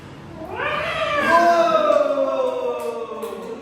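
A drawn-out, wavering meow imitated by young voices, rising then slowly falling, loud and close with a strong tonal quality.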